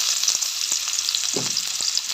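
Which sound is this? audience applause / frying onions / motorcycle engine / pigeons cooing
frying onions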